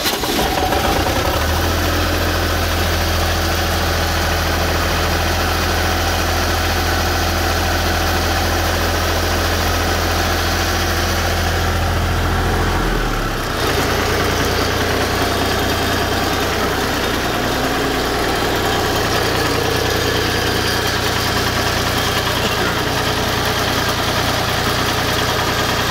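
A Lincoln SA-200 welder's engine runs loudly at close range, a steady throbbing idle that drops to a lower, softer note about halfway through and keeps running evenly, with no talking.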